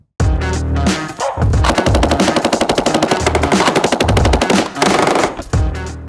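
Loud, close machine-gun fire aimed at a Toyota Yaris, long sustained bursts of rapid evenly spaced shots with a brief pause between them.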